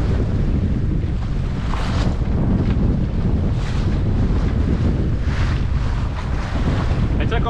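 Strong wind buffets the microphone aboard a sailboat sailed singlehanded, a loud continuous roar with surging gusts and water rushing beneath.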